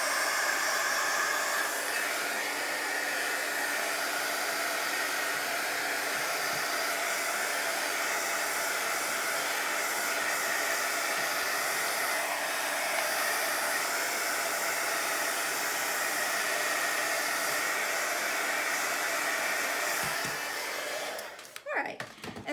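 A heat tool blows hot air over a mixed media tag, giving a loud, steady close-up rushing whoosh that holds for about twenty seconds before cutting off with a few clicks and handling noises.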